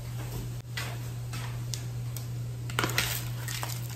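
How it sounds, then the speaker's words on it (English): Metal tongs toss garlic shrimp pasta in a pan, producing a few sharp, close clinks and scrapes against a steady low hum, with no talking. "Mix it up."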